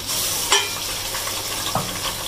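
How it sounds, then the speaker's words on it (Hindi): Ginger garlic paste hitting a hot pan with browned onion for aloo gobi, a bright continuous sizzle with two brief clinks of a spoon, close and fairly loud without any voices. "अब अदरक लहसुन का पेस्ट डालेंगे"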